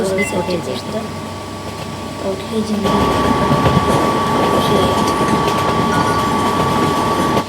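An Indian railways train-driving video game, with a steady train rumble and wagon clatter that swells to a louder, denser roll partway through, while a voice talks over it.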